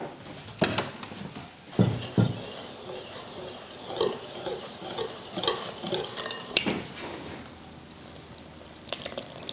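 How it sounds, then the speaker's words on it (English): Wet and dry pumpkin bread ingredients being stirred in a bowl, with soft scraping, tapping utensil clicks and sticky mixing sounds, close and fairly quiet, no talking. "Now we just want to mix up the wet ingredients and the dry ingredients before we put them together."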